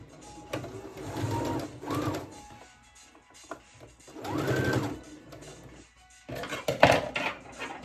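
A sewing machine stitches a men's fitted shirt at a 3.5 stitch length, whirring in several close, steady runs that start and stop with brief pauses in between.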